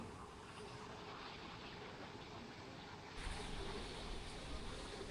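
A constant mechanical rumble and rush of an elevated skytrain moving along rails nearby, heard from Dusit Central Park's rooftop garden in Bangkok, swelling slightly louder partway through.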